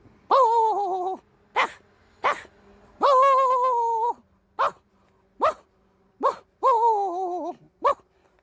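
A man imitates a dog barking: a series of loud, close, voiced barks, some long and drawn out and others short and sharp, separated by brief silences.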